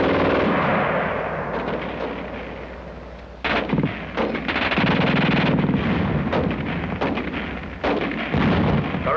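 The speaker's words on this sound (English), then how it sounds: "The German gun shoots fast." A German World War II machine gun fires in rapid bursts, loud and close, with sharp repeated reports over continuous roaring battle noise and brief gaps between volleys.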